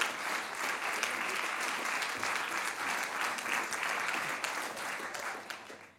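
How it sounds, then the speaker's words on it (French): Theatre audience applauding at the close of a one-woman stage show, a dense, steady wash of clapping that holds for several seconds before tapering off at the end. "partageons ces applaudissements"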